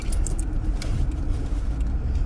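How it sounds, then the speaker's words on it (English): A 2018 Subaru Forester slows from about 35 to under 10 mph and makes a right turn at an intersection, giving a steady, close road and cabin rumble throughout with no talking. "So I just slowed from 35 down to about 7-10 miles an hour, making a right-hand turn at an intersection"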